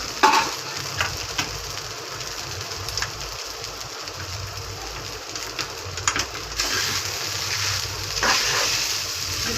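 Soaked sabudana khichdi with peanut powder being stirred in a pan, with a soft continuous sizzle and intermittent scraping strokes of the spoon against the pan.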